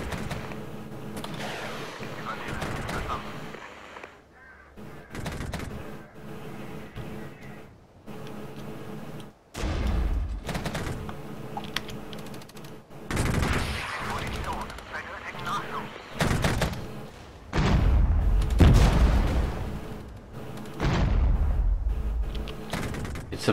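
Gunfire from troops firing on the run in the video game Regiments, with bursts of rifle and machine-gun fire in irregular clusters, some close and loud, others further off, separated by brief lulls.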